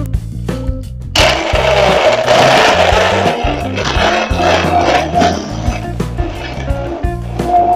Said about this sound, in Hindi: अभी मैं ब्लेंडर यूज करूंगा।